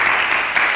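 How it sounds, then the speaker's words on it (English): A conference audience at a Ghanaian renewable energy schools event claps for a dignitary in a short, dense burst of applause that stays at an even level. "Let's give them a clap."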